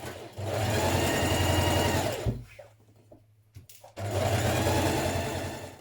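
A domestic sewing machine runs in two long continuous bursts as it stitches the side seams of a summer dress skirt, with a steady motor hum and rapid needle chatter, pausing briefly in the middle with soft handling noises.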